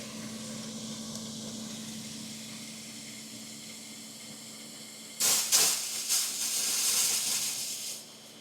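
A steam cleaner's pump hums steadily at first, then breaks into a loud burst of pressurized hissing and spraying that pulses for a few seconds, close and harsh, with no talk.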